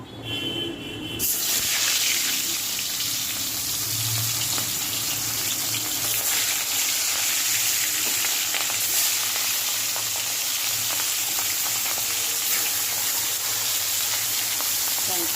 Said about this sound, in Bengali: তার জন্য প্রথমে তেল দিলাম কড়াইতে, মাছটাকে ভাজা করে নেব।